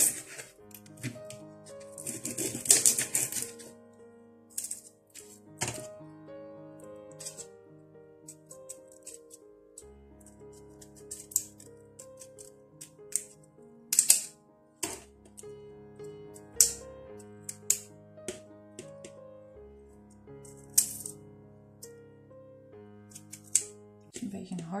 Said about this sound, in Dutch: Dan ga ik het rode uitje snijden.